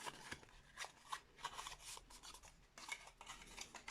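Paper folds on a craft kit base pressed flat by hand, soft close rubbing and scraping strokes repeated in short bursts, quiet and without talk.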